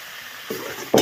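Konar saag greens drop into a pan of fried onions, setting off a short burst of sizzling that rises twice over a steady background hiss, with stirring noise, close and fairly loud, no talk.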